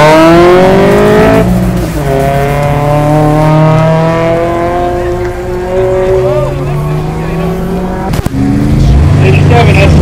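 A 1989 Honda Civic at an autocross event revs and accelerates hard, its engine note climbing and shifting through rising tones with tire noise, close and loud, while a commentator talks over it throughout.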